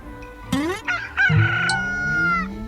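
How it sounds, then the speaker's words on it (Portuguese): A rooster crows one full, loud cock-a-doodle-doo, close by and clear, ending in a long drawn-out final note. "E o galo cantou."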